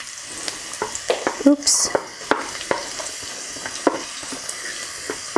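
Garlic sizzles in a hot pan while a utensil scrapes and stirs it in irregular close knocks and scrapes, with one brief spoken exclamation over the cooking noise.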